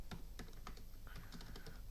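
Computer keyboard keys clatter in quick, uneven bursts as values are entered into an MS Excel sheet, a close, dry run of light clicks with no voices.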